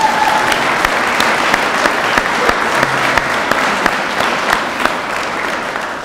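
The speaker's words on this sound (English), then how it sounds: "if we could give him a round of applause" Steady applause from a crowd at a fire station grand opening, dense clapping that holds at an even, loud level for several seconds.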